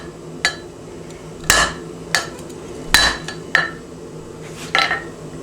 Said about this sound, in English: And all I'm doing is hammering kind of like on and in front of the bolster area here.